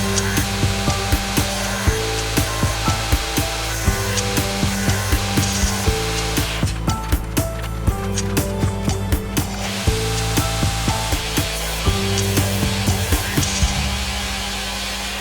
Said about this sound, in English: Now that the grinding is all finished